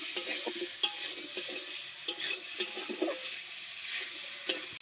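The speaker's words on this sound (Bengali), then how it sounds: "এই আলুটাও মুড়োটার সঙ্গে কষিয়ে নেব" Pre-fried potatoes stir-fried with radish in a wok: a steady soft sizzle runs throughout, broken by repeated scraping and clinking strokes of a spatula, close and moderately quiet with no voices.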